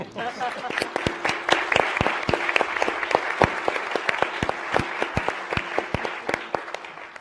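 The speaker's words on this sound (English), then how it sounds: "I think that deserves a round of applause" An audience at a panel discussion on human rights and U.S. foreign policy applauds steadily, with crisp, dense hand claps at moderate distance holding for several seconds and some voices murmuring underneath.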